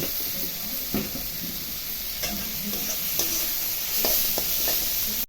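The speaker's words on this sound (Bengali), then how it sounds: "পেঁয়াজ টমেটোটা ভাজা ভাজা হয়ে গেছে" Onions and tomatoes fry in a pan for an egg curry, a steady close sizzle and hiss running throughout with a few soft scrapes and knocks of a spoon stirring.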